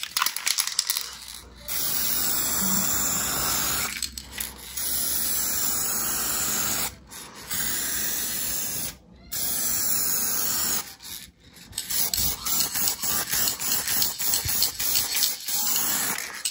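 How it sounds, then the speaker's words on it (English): Aerosol spray can coating the headlights of a VW Golf GTI Mk5 during a refurbishment, with several long steady hissing bursts separated by short pauses, close and loud, then a choppier, broken spray at the end. "All I've been doing is literally that one coat that I just sprayed"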